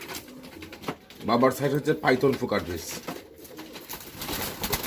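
A racing pigeon coos in a loft, its low throaty calls running under someone talking close by.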